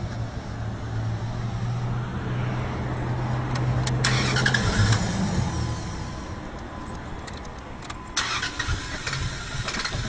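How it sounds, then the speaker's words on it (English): A car engine being started with its fuel shut off, cranking for several seconds in a steady mid-pitched whir that stays loud and close, with brief sputtering bursts near the end and no voices. "we'll start it and make sure that any fuel that was left in the fuel rail is burned out real quick."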